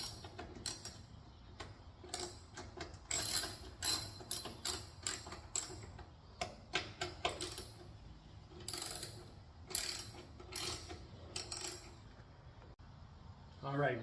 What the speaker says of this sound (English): They actually have a hex head on them, so I'm going to use a 1/4 inch socket to go ahead and loosen those up.